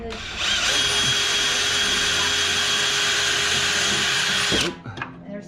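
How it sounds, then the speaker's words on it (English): Close, loud power drill running continuously for about four seconds as it bores pilot holes in a Vanderhall frame, then cutting off abruptly, followed by faint handling sounds. "Just drilling pilot holes, and then we're gonna go back with a bigger drill bit."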